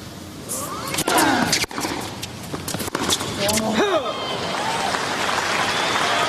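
Tennis crowd at the Australian Open final applauding and cheering in a large stadium, a loud steady wash of clapping with scattered whoops and a commentator talking over it.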